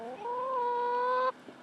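A single drawn-out hen vocalization rises and holds, then cuts off, from chickens kept in a garden coop, close and clear with faint background hum.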